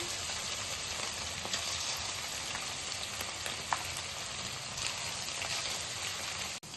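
Chicken pieces for dragon chicken sizzle in hot oil in a pan, a steady, close, dense crackle that holds evenly throughout with occasional sharper pops.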